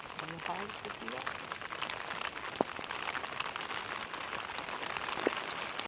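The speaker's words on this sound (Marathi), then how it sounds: "बाहेर पाऊस चालू झालो भरपूर" Dense patter of rain falling on a tent at a forest campsite at night, a steady crackling hiss with a couple of sharper drops, and a voice murmuring briefly early on.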